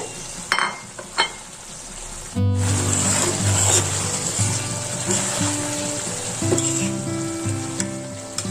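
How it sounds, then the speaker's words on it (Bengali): Young jatka hilsa fish stir-fried in mustard paste in a pan: a couple of utensil scrapes and clinks, then a sudden loud burst of sizzling that keeps hissing and crackling up close with occasional stirring knocks. "এখন ওর মধ্যে মাছ দিয়ে আরেকটু কষাবো"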